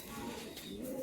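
A Kalanka pigeon kept in a home loft gives a short, low coo, close and soft, heard alone.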